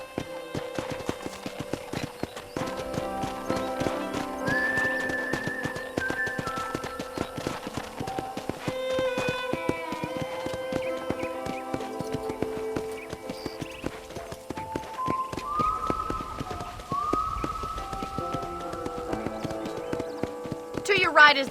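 Steady hoofbeats of a galloping horse in Red Dead Redemption drum throughout, layered under background music with sustained tones.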